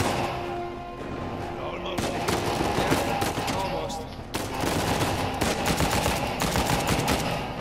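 Sustained machine gun fire from a firefight in the video game Uncharted 4: A Thief's End, with dense rapid bursts layered over game music and effects, dipping briefly near the middle before resuming at steady loudness.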